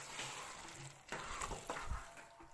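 Grated carrot halwa roasting in ghee over a medium flame, soft sizzling and frying with intermittent scraping stirs of a spoon against the pan, close and moderately loud.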